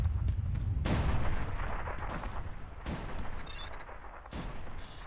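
Artillery shelling pounds away in the Mercenaries: Playground of Destruction video game, a deep continuous rumble with heavy booming impacts and a few higher electronic blips, with no talk over it.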